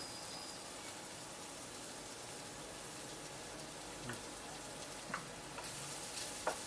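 Garlic fries in a pan for shakshouka, a soft, steady sizzle and crackle heard close up, with a few faint clinks and stirring sounds near the end.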